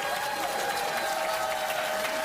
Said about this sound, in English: the Columbus partisan crowd reacts to Team USA winning